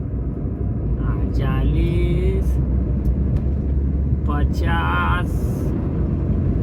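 A car engine climbs uphill in traffic, a low steady rumble running under someone talking throughout.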